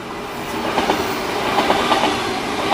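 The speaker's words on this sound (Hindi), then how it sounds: "तभी मेट्रो के आने की आवाज़ और तेज हो गई" A metro train arriving rumbles steadily with rhythmic clattering of wheels on rails, a continuous loud roar close by, no voices.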